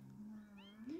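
A cat meows nearby on a summer chicken farm, one drawn-out rising meow with a second call swelling at the end, fairly faint against quiet background.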